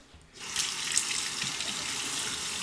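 Tap water starts suddenly and runs steadily into a sink to rinse a single edge razor, a close, even splashing rush with no talk.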